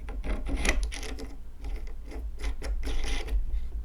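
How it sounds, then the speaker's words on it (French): A threaded metal part from a cross-stitch accessory is screwed together by hand, producing close, continuous ratcheting and scraping metal clicks that rise and fall over a few seconds. "On visse. Puis au moins, c'est du métal. Les pas de vis, pas du plastique comme l'autre."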